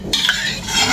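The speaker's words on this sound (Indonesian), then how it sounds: "Ini kita sebarkan minyaknya ya teman-teman di tepi wajan" A utensil scrapes around the edge of a wok as cooking oil is spread before frying mini martabak, a close, loud metallic stirring scrape with a soft hiss.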